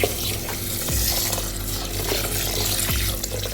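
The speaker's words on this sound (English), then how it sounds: "We'll add water. I'll be parboiling this." Water pours and splashes into a pot of long grain rice being readied for parboiling, a close, steady rushing with a few clunks and stirring knocks, with no voices.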